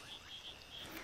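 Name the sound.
Kassina decorata running frog calling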